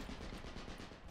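PPSh submachine gun from the Enlisted video game firing one fast continuous burst, rapid evenly spaced rattling shots, faint and distant for about a second.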